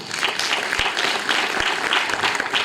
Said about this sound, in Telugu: నమ్మిన వాళ్ళందరూ చప్పట్లు కొట్టాలి.